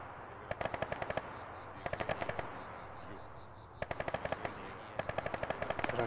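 Rapid automatic gunfire in ArmA 3, four short bursts of quick crackling shots spread over several seconds, moderately distant over a low ambient rumble.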